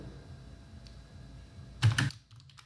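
A short burst of typing on a computer keyboard while entering code, a few quick keystrokes clustered together against a quiet background, fairly soft and close.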